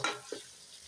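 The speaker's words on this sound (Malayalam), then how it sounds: "മീൻകറി ഇരുമ്പ് ചീനിച്ചട്ടിയിലാണ് വെക്കുന്നത്. അടുപ്പിൽ മീൻകറി വെക്കാൻ തുടങ്ങി." Fish curry in an iron pan on the stove gives a brief, soft sizzle with a single light stirring scrape, close and quiet, lasting under a second.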